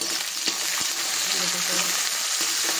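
Onions and green chillies sizzle steadily in a hot pan, a continuous close frying hiss with a few soft stirring knocks and no talk.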